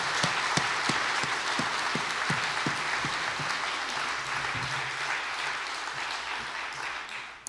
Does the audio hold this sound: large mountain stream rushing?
no